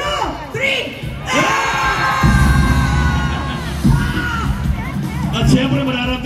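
A large crowd at a Filipino political rally shouts and cheers loudly and continuously, with bursts of whooping and scattered bangs, a dense roar of many voices filling the space.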